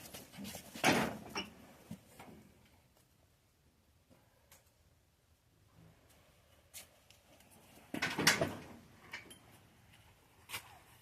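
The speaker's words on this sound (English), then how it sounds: "My neighbor's dog." A neighbor's dog in a shop yard, heard as a few quiet yips and whimpers in two bursts, early and late, separated by a lull with faint clatter.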